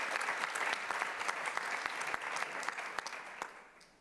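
An audience at an awards ceremony applauds. The clapping is steady and crisp, moderately close, and it fades out toward the end.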